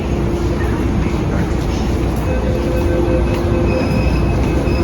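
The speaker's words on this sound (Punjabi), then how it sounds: "ਇਹ ਆਹਾ ਸੁਣਿਓ ਮੈਟਰੋ ਦਾ ਸਟੇਸ਼ਨ ਇਹ ਆ ਮੈਟਰੋ ਸਟੇਸ਼ਨ" Delhi metro train at a station, with a steady loud rumble of wheels and carriages and thin high squeals from the rails, under faint background voices.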